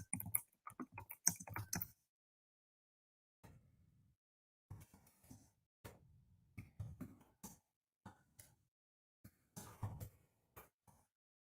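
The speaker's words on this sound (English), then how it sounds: "So I'm going to start typing." Keys on a computer keyboard are typed in short bursts of rapid clicks separated by pauses, close and fairly quiet, with a soft low thump or cough-like sound in one gap.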